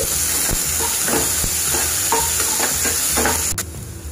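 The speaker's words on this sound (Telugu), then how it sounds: "దీనిలో సన్నగా తరిగినటువంటి ఒక ఉల్లిపాయలు వేసి దీన్ని బాగా దోరగా వేయించుకోవాలి" Finely chopped onion frying in a pan for tomato pulusu, a continuous close sizzle with regular stirring scrapes, fairly loud and alone, with a brief clink near the end.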